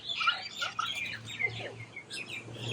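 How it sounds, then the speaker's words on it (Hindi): A crowd of myna birds chatters and calls together at a roadside stop in Assam, their busy overlapping chirps and whistles running without a break and sounding fairly close. "बहुत सारी मैना है"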